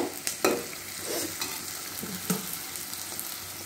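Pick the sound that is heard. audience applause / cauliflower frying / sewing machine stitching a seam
cauliflower frying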